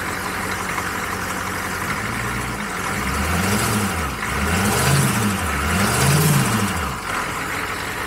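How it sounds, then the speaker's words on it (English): The diesel engine of a 1987 AM General M998 Humvee runs steadily nearby, its low rumble rising and falling in smooth repeated revs before settling back to idle. "I like this diesel engine."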